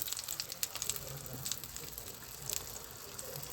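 Dough pieces frying in fat in a pan at home, giving a soft crackling sizzle with scattered sharp pops, fairly quiet and close, with no talking.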